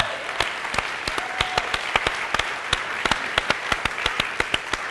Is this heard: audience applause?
yes